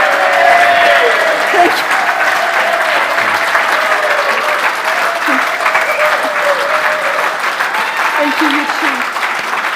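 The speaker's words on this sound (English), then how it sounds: "let's give her a proper round of applause, please" A crowd gives a lady sustained, loud applause that stays steady for several seconds, with a nearby voice speaking briefly over the clapping.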